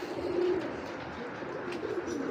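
Pigeons at a dealer's loft coo in soft, repeated low calls, close by and steady, with no talk over them.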